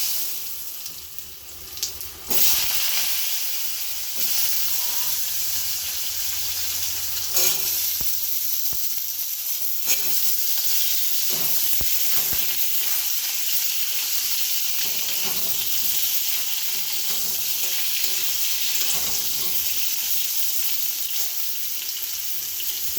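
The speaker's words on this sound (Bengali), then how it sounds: "কড়াইতে ওই তেলের মধ্যেই একটু জিরে ফোড়ন দিয়ে দিচ্ছি, আর কেটে রাখা আলু আর পটলগুলো ভেজে দিচ্ছি" Diced potatoes and pointed gourd fry with cumin seeds in hot oil in a kadai, giving a loud, continuous hiss and sizzle close up, with occasional clinks and stirring clicks and no voices.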